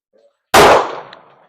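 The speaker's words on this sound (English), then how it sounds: "I'm going to be firing another 15 rounds" A single loud, sharp report from an S&W Sigma SW9VE 9mm handgun, a sudden close blast after near silence that decays into a short ringing tail, with a faint metallic clink afterward.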